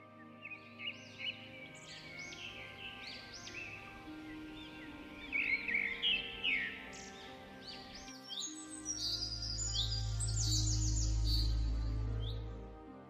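A bird calls in a run of bright chirps and tweets, then the chirping goes on over a low steady hum near the end. The calls come clearly, with no talk.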